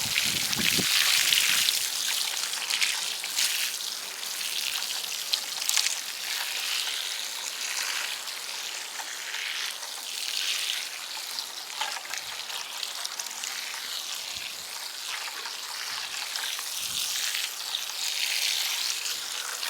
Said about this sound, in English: I'm going to water it in really good.